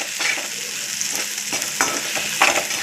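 Tomatoes with salt frying and being stirred in a hot pan for chutney, a steady bright sizzle with intermittent scraping and clacking of the spoon against the pan, close and fairly loud, no talk.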